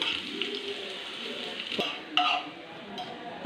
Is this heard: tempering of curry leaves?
yes